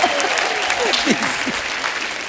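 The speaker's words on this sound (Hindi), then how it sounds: "शान साहब के लिए जोरदार तालियां हो।" A studio audience on a comedy show breaks into loud, dense applause with whoops and whistles, while a voice talks over it throughout.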